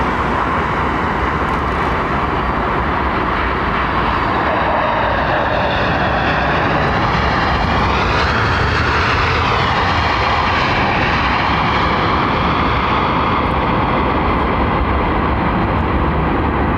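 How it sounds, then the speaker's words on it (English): A China Southern airliner at London Heathrow Airport produces a loud, steady jet engine roar that swells slightly midway and holds for the whole stretch, with no talk over it. "Looks like China Southern, probably in from Wuhan or something."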